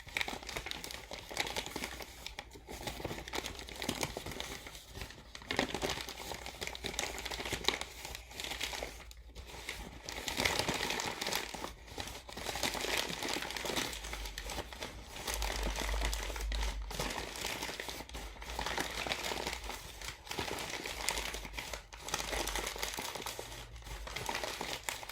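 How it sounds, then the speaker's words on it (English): A paper bag being gently rolled down by hand for a craft nest, with continuous soft crinkling and rustling and brief louder crunches, close and quiet, lasting throughout with no voices. "You take your paper bag and you very gently roll it down."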